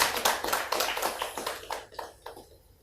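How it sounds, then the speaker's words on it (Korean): A church congregation claps in welcome for two visitors, a dense burst of hand claps that thins into a few scattered claps and fades out within a few seconds. "우리 두 분을 뜨겁게 환영하는 사랑의 박수 한번 부탁드립니다."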